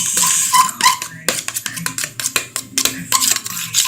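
A fork beats cupcake batter in a bowl, giving a rapid series of close, sharp scraping clicks and taps against the bowl sides in uneven bursts.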